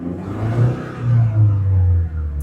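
A turbocharged Lexus IS engine heard from inside the cabin, a low, moderately loud rumbling drone that swells and eases slightly, with no talking.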